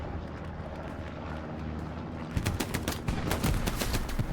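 Gunfire and explosions from a competitive Hell Let Loose match, with a grenade blast among the noise; loud bursts and repeated sharp shots over a steady battle din, growing denser in the second half.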